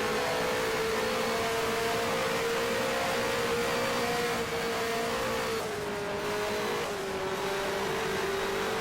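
A 1974 race car at Pocono in a racing sim holds a steady, loud engine drone on throttle, with a slight dip in pitch as it lifts off and then picks back up.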